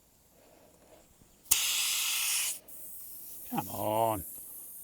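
Air hissing out of a car tyre's valve as it is deflated from 34 psi, a loud steady hiss for about a second, then quieter, with a short spoken phrase near the end.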